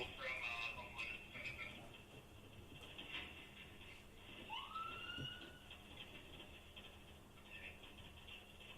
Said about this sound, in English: Trying to further alert him with his siren as well as the lights now.